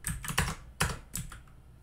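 Code being typed on a computer keyboard, a few quick bursts of clicking keystrokes close to the mic with brief pauses between, no talking.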